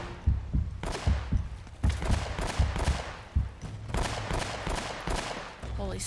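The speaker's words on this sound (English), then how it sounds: "We want to try out this gun now." Repeated bursts of gunfire from a newly picked-up weapon in the video game Uncharted: Drake's Fortune, with loud broadband volleys, sharp shots and thumps in clustered rapid strings across the clip, and no talk.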